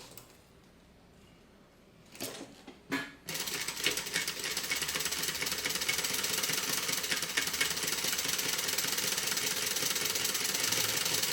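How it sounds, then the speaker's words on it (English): After a few brief thumps, a sewing machine stitches a quarter inch from the raw fabric edge of a backpack. It runs in a fast, steady, continuous mechanical chatter, close and alone. "I'm going to stitch 1/4 inch away from the raw edge."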